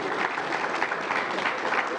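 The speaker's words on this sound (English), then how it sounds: "let's give them a round of applause" Audience at a budget forum applauds in a steady, thick wash of clapping, moderately loud and continuous, with no voices standing out.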